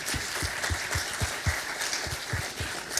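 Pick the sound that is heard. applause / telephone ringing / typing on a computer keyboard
applause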